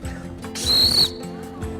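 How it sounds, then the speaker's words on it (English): One sharp, shrill whistle blast, about half a second long, sounds between quiet murmurs. "what do you need to have maybe to make a louder sound over a long time? A whistle."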